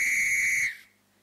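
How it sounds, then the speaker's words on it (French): A whistle blown once in a steady, piercing tone lasting just over half a second, loud and close, then cut off into near silence. "Siffle, fait un son avec un sifflet."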